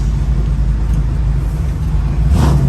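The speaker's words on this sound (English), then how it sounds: "Car sounds mean." A 1967 Ford Mustang engine rumbles steadily and loudly from inside the car while driving in traffic, a deep continuous drone with no talking.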